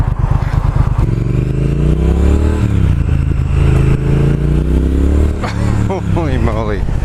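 A 2019 Triumph Speed Twin motorcycle revs loudly up close, its engine droning with rising and falling pitch before a few quick exhaust pops and crackles near the end; a voice talks over it throughout.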